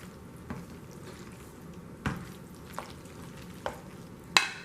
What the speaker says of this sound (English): And then mix it.